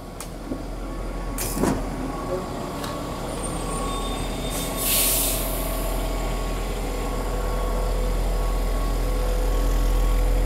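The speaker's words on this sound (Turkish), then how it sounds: "tren geçiriyoruz." A train passing by, recorded on an iPhone 4: a steady, rising mechanical rumble with a few sharp clanks and a brief high hiss, growing louder and fuller toward the end as it nears.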